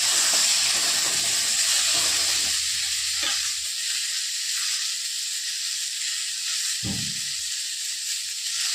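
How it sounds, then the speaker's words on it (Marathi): Tomato and onion frying in oil in a pan for an eggplant curry, a steady close hiss and sizzle with a brief stirring clatter, no talk. "आता टाकत आहोत टमाटा आणि कांदा हे पण थोडंसं परतून घेणार आहे"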